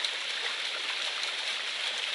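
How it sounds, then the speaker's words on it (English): A small waterfall beside a rocky, rooty mountain trail on Kinsman Mountain in misty, drizzly weather: a steady, soft rushing of falling water, even and unbroken, heard alone at a moderate distance. "Another little section of waterfall"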